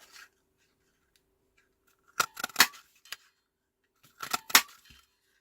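Scissors snip through hand-stamped paper while cutting out card decorations, close up in two short bursts of quick crisp cuts separated by quiet.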